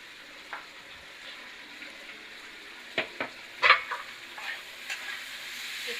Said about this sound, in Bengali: তাহলে এই পনিরটার সঙ্গে ভাজলে টেস্টটা ভালো হবে